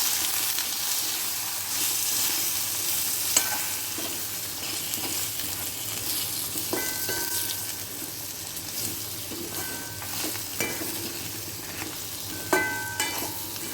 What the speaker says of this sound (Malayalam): നമുക്കതിലേക്ക് മൂന്ന് ടീസ്പൂൺ സാമ്പാർ പൊടി കൊടുക്കാം ഈ സിമ്മിൽ വെച്ചിട്ട് ഇളക്കി കൊടുക്കാം